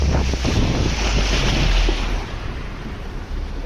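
Heavy wind rumble and rushing water surround a moving boat, a loud continuous roar that eases slightly toward the end.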